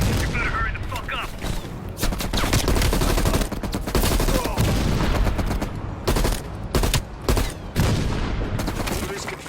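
Heavy machine gun fire rattles in dense, sustained bursts with booming impacts in a Call of Duty Cold War battle, loud and close, with brief gaps between volleys and voices under the din.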